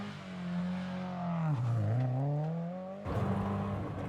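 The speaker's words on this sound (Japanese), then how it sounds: "エンジンは回る。" A Toyota 86 engine revs hard during a touge mountain-road race, a steady high drone that dips as it shifts and then climbs again, loud and close, with no voices.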